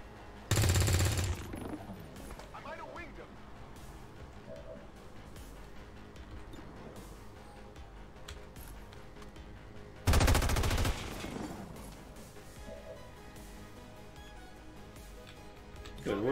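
Two loud bursts of automatic gunfire from the video game XCOM 2, each about a second long and roughly ten seconds apart, with quieter game ambience in between.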